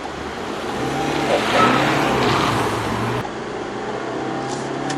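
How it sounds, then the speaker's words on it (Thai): A BMW 320d G20 with a 2.0-litre diesel engine pulls hard accelerating in sport mode, a steady rising roar inside the cabin that drops abruptly partway through as the gear changes. "เดี๋ยวเราจะมาลองอัตราเร่งนะครับ"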